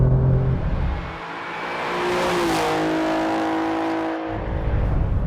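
Heard from outside, an Alfa Romeo Giulia Quadrifoglio revs hard, its engine note rising and falling through several loud, close sweeps with no talking.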